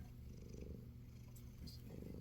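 A house cat purrs softly and steadily up close, a low rhythmic rumble that continues without pause at a quiet level.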